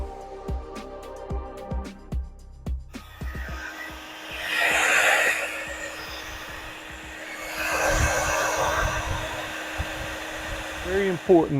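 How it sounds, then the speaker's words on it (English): A hair dryer, used to speed drying during a truck modification, whirs in two long bursts, rising and falling, after some clicks and handling noises; nearby and moderately loud. "you can hook up hair dryer, not a heat gun, hair dryer"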